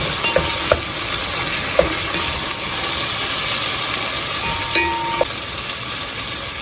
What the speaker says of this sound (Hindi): इसमें भिंडी डाल के इसको फ्राई कर लेना है